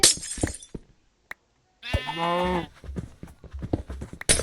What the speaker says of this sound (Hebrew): את הכבשות אל תהרוג.